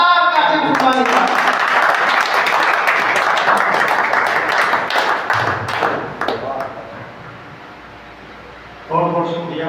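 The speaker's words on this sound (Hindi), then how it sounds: "वो जोरदार तालियों से इस्तकबाल कीजिए" Loud, sustained applause and clapping from a mushaira audience welcoming a poet, a dense crowd roar that gradually fades, with a voice speaking before and after it.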